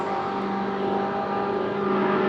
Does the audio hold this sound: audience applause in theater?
no